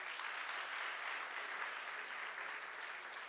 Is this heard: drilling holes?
no